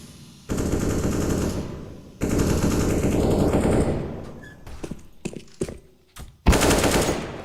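Automatic gunfire in a Counter-Strike: Global Offensive esports match, two long loud sustained bursts followed by scattered single shots, clicks and a final sharp blast.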